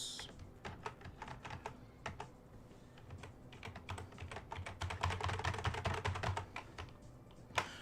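Computer keyboard typing, close and fairly quiet, a quick irregular patter of key clicks that grows denser and louder toward the end, with no talking.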